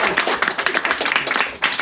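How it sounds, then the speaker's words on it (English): A round of applause breaks out on a murder mystery set staged like the Orient Express: a small group clapping steadily at close range for a couple of seconds, dense and uneven, with faint voices underneath. "Round of applause."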